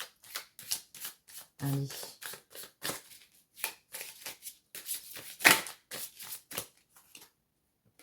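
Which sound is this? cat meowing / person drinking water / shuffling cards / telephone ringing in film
shuffling cards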